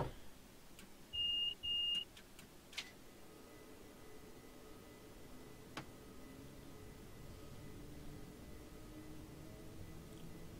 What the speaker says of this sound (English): Just got an AWS alarm there.